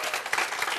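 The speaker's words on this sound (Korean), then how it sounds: "여러분 큰 박수" An audience at a talk concert applauds a guest speaker, a dense burst of clapping from many hands filling the short moment at moderate distance.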